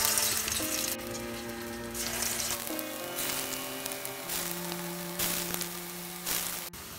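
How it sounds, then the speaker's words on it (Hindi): Poppy seed fritters sizzle steadily in hot oil over medium heat, a continuous close crackling fry with a faint tonal hum running beneath it throughout. "मीडियम हीट पे हमें बड़ा फ्राई करना है। तेल गरम हो गया है,"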